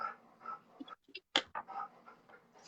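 A puppy panting in quick, soft bursts close by, with small whimpers and one brief silent gap midway.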